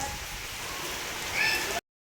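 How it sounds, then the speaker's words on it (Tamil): Heavy rain pouring steadily outdoors during a downpour, a dense even hiss that holds throughout and swells slightly near the end before cutting off abruptly. "நேர மழை பெஞ்சிட்டு இருக்கு."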